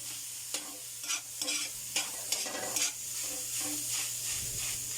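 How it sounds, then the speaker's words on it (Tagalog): A spoon stirs palabok sauce in a pan over a continuous frying sizzle, with soft scraping strokes and light clinks spaced irregularly, close and loud, no talking. "Continue lang ang ating paghalo."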